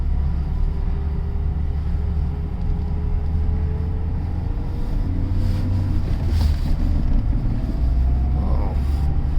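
A small Renault Twingo Mk1 hatchback driving on a bumpy road and picking up speed, steady engine and road rumble with wind noise throughout, no talking.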